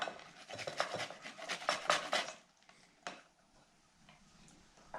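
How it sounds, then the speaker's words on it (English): A whole lemon is rubbed against a grater for zest in a home kitchen, giving rapid rasping strokes up close that fade into quieter scraping and a few light clicks. "grate the lemon."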